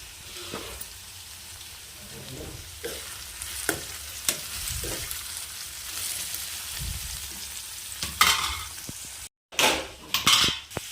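Ivy gourd (tindora) curry gets stirred in a pan over steady frying sizzle, with repeated metallic scrapes and clinks of a spoon against the pan, close and clear, and a brief gap near the end.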